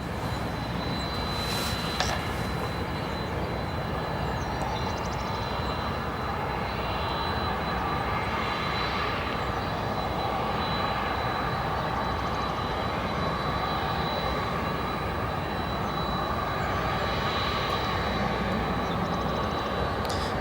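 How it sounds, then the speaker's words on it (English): GE CF6 jet engines on an airliner taxiing at O'Hare Airport, a continuous loud turbine roar with a steady whine, heard from nearby outdoors without talk. "I'll just let you listen to these CF6 engines as it taxis."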